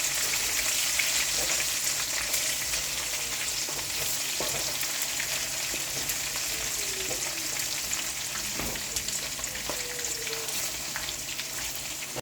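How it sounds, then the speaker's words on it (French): Pork pieces brown in hot frying oil, a dense continuous hiss of sizzling grease with occasional faint pops and clinks, steady and close throughout. "Voilà la viande qui est en train de dorer."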